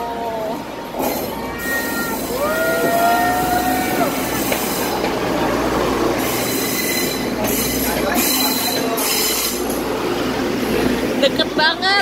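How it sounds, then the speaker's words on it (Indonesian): Train wheels squeal loudly with rising and falling tones as a train passes close by from behind at Shifen Old Street, with rumbling rail noise throughout and people talking over it. "iya nih keretanya dari belakang"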